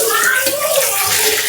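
Split mung beans are rinsed and swished in water in a home kitchen, a close, continuous splashing and sloshing that lasts under two seconds.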